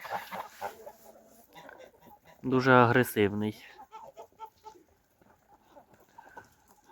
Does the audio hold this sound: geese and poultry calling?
yes